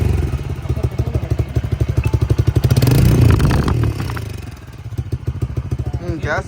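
A Bajaj CNG motorcycle is ridden, its engine thumping in a steady fast pulse, swelling louder in the middle before settling back, with a voice briefly audible.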